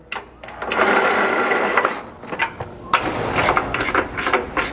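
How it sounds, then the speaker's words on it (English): Mounting bolts being tightened on a Chevy Colorado Blitz slider mount with a ratchet wrench, rapid loud clicking bursts close up, broken by short pauses. "tighten these up at least enough to hold the mount in place"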